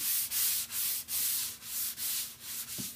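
Rhythmic back-and-forth sanding on an Old Town canoe hull, about eight steady strokes with brief pauses between them, close and fairly quiet with no talking.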